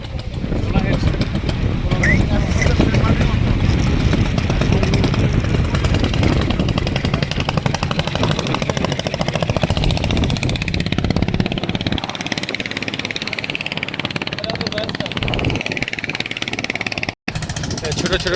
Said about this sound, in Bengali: ছোট ছোট নৌকাগুলো চলে যাচ্ছে সাগরের গভীরে মাছ ধরার জন্য